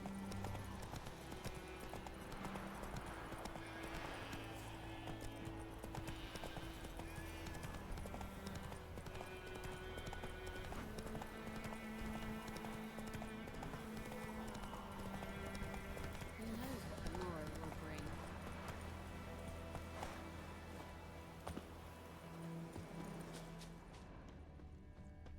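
Roach, the horse in the video game The Witcher 3, gallops with steady, continuous hoofbeats and an occasional whinny, layered over game music while a voice talks.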